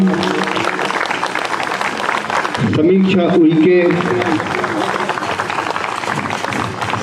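An audience keeps up dense, steady applause at a CRPF Day ceremony of the 148th battalion while an announcer speaks over a loudspeaker in the middle.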